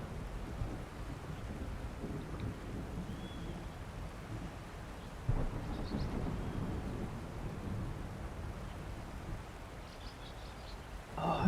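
A thunderstorm rumbles low and continuously in a game world scene under red lightning over a spire, with wind and rain noise beneath, a sharper crack midway, and another surge at the end.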